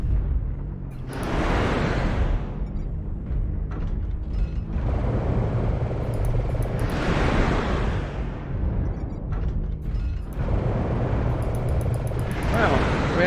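Missile explosions in the mech combat game MechWarrior Online arrive as repeated heavy roaring blasts that swell and fade roughly every few seconds over a steady rumbling engine drone, loud and close.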